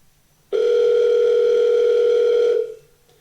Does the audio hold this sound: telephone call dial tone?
yes